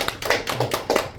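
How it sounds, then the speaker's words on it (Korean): A church congregation at a Sunday Korean Presbyterian service in Toronto breaks into applause, a short burst of many hands clapping irregularly at moderate, roomy distance, with no talking over it. "박수 한번 주시죠."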